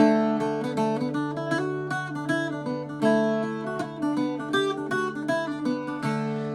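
An Irish bouzouki strummed and picked in a swung rhythm, bright ringing chords with steady accented strokes, played solo and close.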